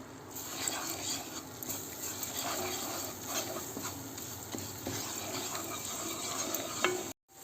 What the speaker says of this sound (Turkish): İçerisine bir yemek kaşığı dolu dolu salçamızı ilave edelim, karıştıralım.